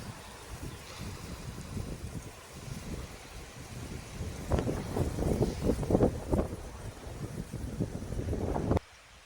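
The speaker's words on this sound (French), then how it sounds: "Je vais attendre que le vent" Gusty wind buffets the microphone, rumbling low and swelling stronger midway before cutting off abruptly near the end.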